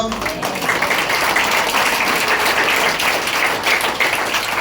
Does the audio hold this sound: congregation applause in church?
yes